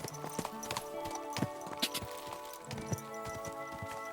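Horse hooves clip-clopping at a walk in the medieval game Kingdom Come: Deliverance II, an even rhythm of distinct hoof strikes over a soft musical background, fairly close and clear.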